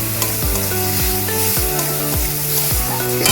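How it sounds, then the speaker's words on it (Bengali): Small mola fish and mango cook in mustard oil with a splash of water, a loud, steady sizzle with stirring scrapes, heard over continuous background music. "সামান্য একটু জল দিয়ে একটু কষিয়ে নিলাম।"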